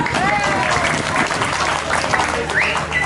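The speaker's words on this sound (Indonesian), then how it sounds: "tepuk tangan." Applause from a crowd at a Betawi silat martial arts performance during a village celebration near Rawa Belo, loud continuous clapping with overlapping voices and shouts throughout.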